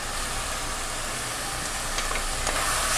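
Lamb sizzles in a pan with allspice, cinnamon, black pepper and salt for bulgur pilaf, a constant loud frying hiss with faint scrapes of stirring, close up.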